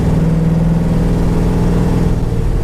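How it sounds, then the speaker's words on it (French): A Chevrolet Nova's 350 V8 rumbles steadily while cruising at an even pace, a loud, close, continuous low engine drone with no speech over it. "cette sonorité magnifique là du V8. Donc V8 350 de Chevrolet"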